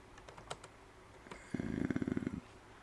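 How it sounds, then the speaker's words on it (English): Keys on a computer keyboard are tapped in a short run of quiet clicks, then a rapid burst of faster, louder keystrokes rattles up close before stopping, with no talking. "We type in Robin Hood."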